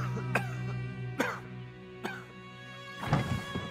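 A sick father coughs in Brothers: A Tale of Two Sons, several rough, separate coughs spaced about a second apart and ending in a heavier throat-clearing hack, close up over a low background hum.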